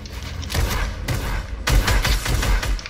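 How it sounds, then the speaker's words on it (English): Rapid bursts of gunfire from several players in a Fortnite match, with loud thumping shots in dense volleys and a brief lull before the firing resumes. "There's 5 kids shooting at me."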